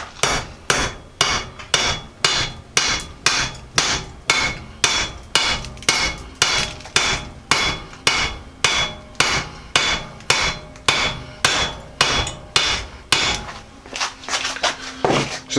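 Rapid, steady hammering on a rusted hub and knuckle of a Jeep Cherokee XJ, dozens of hard metallic blows in quick even rhythm, close and loud, with no talk.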